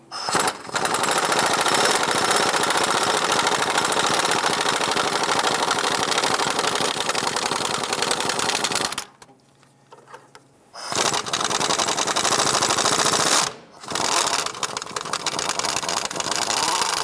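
Power tool driving a socket on a swivel to remove exhaust manifold bolts on a 1995-2001 Ford Explorer, a loud continuous rattling, hammering buzz with two brief pauses before it resumes.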